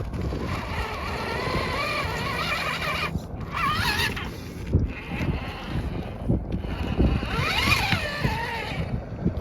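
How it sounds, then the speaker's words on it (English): The motor of an RC crawler with an H10 Optic and a dig function binds up, making uneven whining and straining sounds that rise and fall in pitch over a noisy background. "this motor should not be binding up like that"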